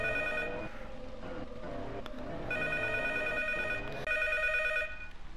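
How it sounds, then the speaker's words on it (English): An old-style telephone bell rings repeatedly in the horror game P.T., in sharp metallic bursts with brief pauses between them, loud over a low ambient drone. "And the phone's off the hook. How can it be ringing?"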